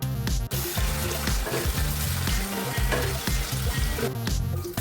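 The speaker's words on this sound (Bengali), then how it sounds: "এরপর কেটে রাখা আলুটা ভেজে নেব।" Cut potatoes fry in hot mustard oil with a dense, loud, continuous sizzle and crackle, heard close up with no speech.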